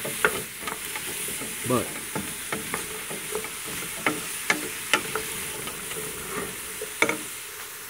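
Vegetables sautéing in olive oil for a chicken kale soup, a steady sizzle broken by regular scraping and stirring clacks of a utensil against the pot, with a single spoken word.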